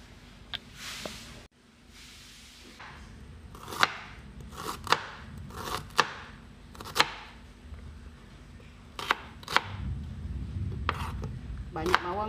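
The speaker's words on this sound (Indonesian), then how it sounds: "Nak ilir-ilir dulu bawang besar ni." Large onions sliced with a knife on a board, a string of sharp, close chopping taps arriving in irregular bursts over low room hum.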